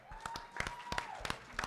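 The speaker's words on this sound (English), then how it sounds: "give them a round of applause" Scattered applause from an audience at a regional startup challenge event, with a few distinct claps standing out over a quieter room.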